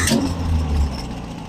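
A 1981 Datsun 720 engine running at a high fast idle just after starting, a loud close steady rumble that sags slightly toward the end, with no talking.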